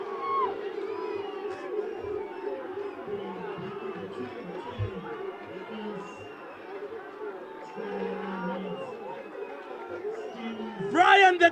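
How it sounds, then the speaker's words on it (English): Rugby league crowd at an under-20 match in Harare cheering after a try, a steady, fairly distant hubbub of cheers and chatter that rises again near the end, with voices mixed in. "the crowd has gone into absolute delirium here"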